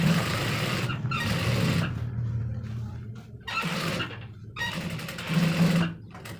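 A sewing machine runs in bursts while stitching a belt loop onto trousers, its motor whirring and needle chattering close by, starting and stopping several times with brief pauses.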